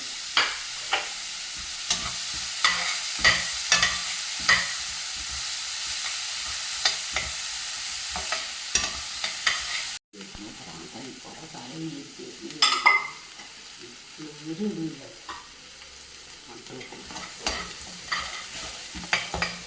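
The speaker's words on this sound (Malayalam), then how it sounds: "ഇതാ 2 കഷ്ണം ഇഞ്ചി, ഒരു പച്ചമുളക് ഉണ്ട്, അത് വഴറ്റണം" Ginger and green chili being stirred and sautéed in a pan for chana masala, with a steady close sizzle broken by repeated scraping strokes of a spoon against the pan, and no talk.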